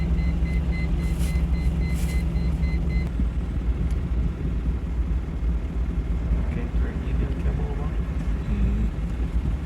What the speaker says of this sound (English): This is an old time Kenworth truck, you know.